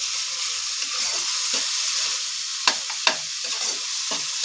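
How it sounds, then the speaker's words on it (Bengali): A fish head cooks with gime greens in a pan, stirred while it fries dry. A continuous hissing sizzle runs throughout, broken by a few sharp scraping stirs. "এই পানিটা আমি সব নেড়ে চেড়ে শুকিয়ে দেবো।"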